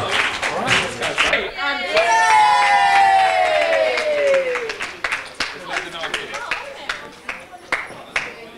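Wedding guests at a 1992 reception at The Prince Regent, Woodford Bridge, clap and cheer loudly as the couple cuts the cake. A rising whoop or whistle cuts through the steady applause, which fades into scattered claps.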